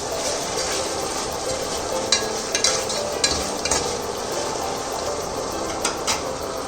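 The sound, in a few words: tomatoes frying with ginger garlic paste in a pan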